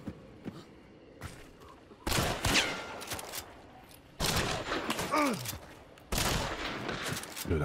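Gunfire in the video game Marathon, three loud sustained bursts of rapid automatic shots separated by quieter gaps with single thuds, close and punchy.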